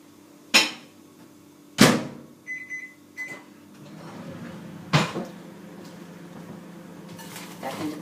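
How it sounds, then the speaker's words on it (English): A microwave oven heats a plate-covered portion of dog food for about 20 seconds: sharp door and cupboard clunks, a pair of short electronic beeps, then a steady low hum running quietly underneath. "that's just going in the microwave for about 20 seconds"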